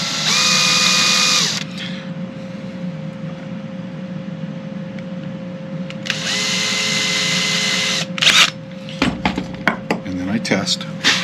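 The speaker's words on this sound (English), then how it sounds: "I take my smallest drill bit and I drill a small hole right where those marks are" A small power drill with its smallest bit whirs in two short bursts, drilling a small hole in wood for a cigar box ukulele neck, spinning up loudly then stopping, followed by light clattering and tapping of tools on a workbench.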